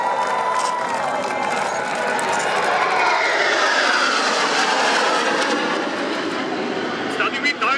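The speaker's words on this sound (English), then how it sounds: "Black Eagles now descending with the diamond formation" Black Eagles aerobatic jets fly in diamond formation at the Singapore Airshow 2016, producing a loud, steady, continuous jet roar that fills the whole stretch, with a crowd faintly audible underneath.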